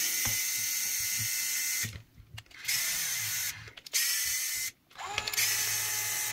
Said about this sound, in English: I'm going to show a little bit of video of me disassembling a few things, just how handy and how quick this DeWalt screwdriver makes it